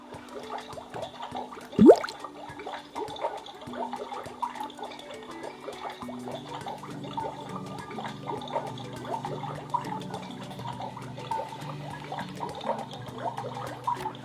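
Water poured from a vial into a Beast Lab Shark Creator toy kit, a soft liquid trickle and splash lasting several seconds, close and quiet among small plastic clicks and handling noises.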